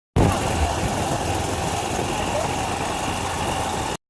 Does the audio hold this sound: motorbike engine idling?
yes